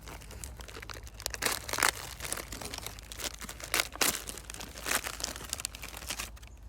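Clear plastic wrapping on MRE beef goulash menu packets crinkles and crunches up close, in dense bursts of handling throughout with no talking.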